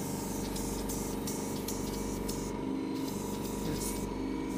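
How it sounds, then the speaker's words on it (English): Vacuum RF beauty machine handle for eye treatment switched on, a steady electrical hum with tonal whine and rhythmic pulsing hiss bursts from the suction cycling. "and we turn on the vacuum."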